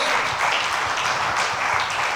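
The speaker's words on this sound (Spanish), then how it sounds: "Denle un aplauso fuerte al Rey, hermano." A church congregation applauds during a worship service, a wash of many hands clapping at once, continuous and fairly loud, with no single clap standing out.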